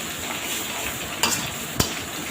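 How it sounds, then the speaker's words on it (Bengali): Boiled noodles are stirred with spices in a pan for chicken noodles, a steady close sizzle with two quick clinks of a utensil against the pan. "এখন মশলার সাথে মিশিয়ে দিচ্ছি।"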